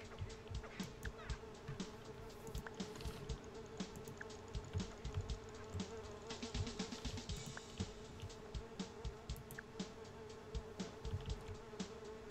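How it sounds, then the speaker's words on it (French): Flies buzz persistently and close up in a restaurant, a dense insect drone with rising and falling whines running throughout, some of them mating in the air. "Il y a de la mouche même qui s'accoupe dans l'air,"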